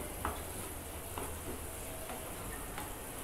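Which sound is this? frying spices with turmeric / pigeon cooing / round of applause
frying spices with turmeric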